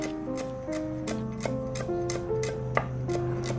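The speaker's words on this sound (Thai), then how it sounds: "ใบมะกรูดหั่นฝอย" Knife finely shredding kaffir lime leaves on a cutting board while making Thai fried shrimp cakes, a steady run of close, crisp chopping taps with soft background tones.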